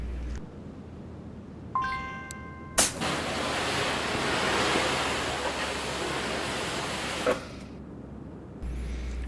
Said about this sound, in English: so let's take it and wash it up first so we can see what we're dealing with